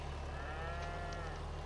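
Cattle in a farming video game let out a single faint, drawn-out moo over a steady low hum of background noise.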